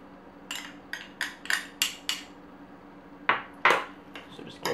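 A utensil clinks against a bowl while a ricotta, dried herb, olive oil and minced garlic filling is mixed, several sharp close taps in an uneven rhythm.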